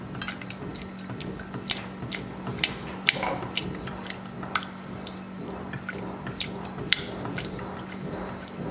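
A whisk beats beurre blanc, a classic French butter sauce, in a pan, giving a steady run of soft wet clicks and sloshing taps with sharper metal ticks scattered throughout, close and fairly quiet with no talking.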